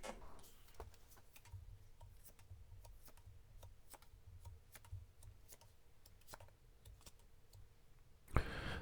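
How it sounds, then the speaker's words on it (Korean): Tarot cards are drawn one by one and spread across a table, giving a steady run of light, crisp clicks and taps that ends with a louder swipe, close by and with no voices. "제가 카드 뽑아볼게요"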